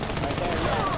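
Rapid bursts of automatic gunfire from the video game Army of Two: The Devil's Cartel sound loud and close in a continuous rattling stream lasting about a second.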